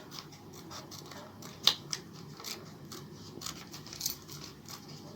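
Scissors cut through folded paper in a series of light snipping strokes, close and fairly quiet, with a couple of sharper crisp cuts standing out against soft rustling.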